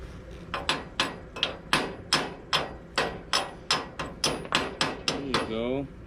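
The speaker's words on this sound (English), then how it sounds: "Chip it off." A hammer chips slag off a fresh weld in a fast, even run of about a dozen sharp, close metallic knocks, with a few looser taps at the end.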